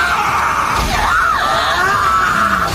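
A harsh, wavering creature shriek, strained and loud, rising and bending in pitch as if in agony, close and continuous over its short length.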